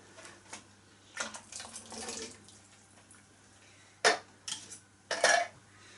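Tinned butter beans with their juice poured into a stew pot in a home kitchen: soft splashing and liquid glugs in short bursts, followed by a couple of sharper clinks of the tin against the pot near the end.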